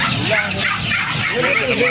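Small puppies yip and whimper in quick, high bursts close by at an outdoor animal market in Bocaue, Philippines, with people talking over them throughout.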